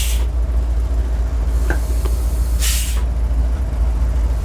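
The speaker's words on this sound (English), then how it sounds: "The coolest thing about ramp trucks with air brakes is the air brake sound." A 1971 Dodge D700 ramp truck's air brakes let out two sharp hissing bursts of released air, one brief at the start and a louder one near the end, over a steady low idling engine rumble.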